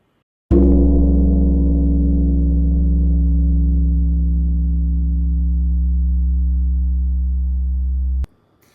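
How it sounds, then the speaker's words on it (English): A single deep strike of a Korean temple bell, the Emille Bell, with a sharp onset, then a long, steady, humming resonance that slowly fades before cutting off abruptly. "just the deep, resonant sound of a Korean bell"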